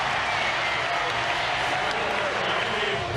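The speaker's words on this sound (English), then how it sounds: "That gets the crowd going." A baseball stadium crowd at a Mariners game roars and applauds after a home run, a dense, loud, sustained wash of cheering and clapping from start to finish.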